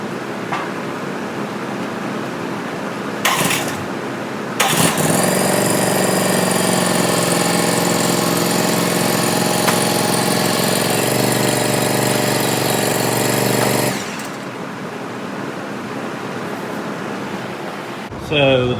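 A 2026 Hustler Super Z zero-turn mower engine revving loudly and steadily up close for about nine seconds as it backs onto ramps, then dropping back to a quieter hum.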